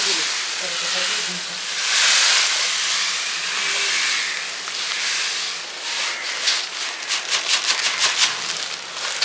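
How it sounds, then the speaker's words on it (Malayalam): Sugar poured over chopped pineapple for homemade wine gives a steady granular hiss, turning into quick rhythmic rustling pulses toward the end. "പഞ്ചസാര ഇങ്ങനെ അങ്ങ് ഇട്ട് കൊടുക്കാം"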